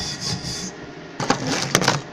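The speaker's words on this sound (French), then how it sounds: "avant de reprendre la soudure, on gratte toujours à la brosse à fer." A wire brush scrapes across an arc weld bead on steel before welding resumes, with a quiet rasping lead-in followed by several louder, harsh scraping strokes close by.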